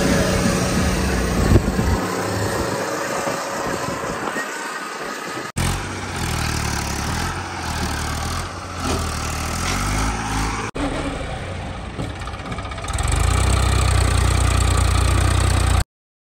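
A tractor engine runs steadily outdoors with a loud, continuous mechanical rumble, briefly dipping twice and then growing heavier and deeper toward the end.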